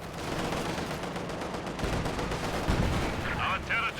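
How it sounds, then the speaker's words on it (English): Dense, sustained battle gunfire and explosive booms from a Company of Heroes 2 match as an anti-tank rifle grenade fires, loud and continuous with a short burst of tonal game effects near the end. "Anti-tank rifle grenade is going to be connecting."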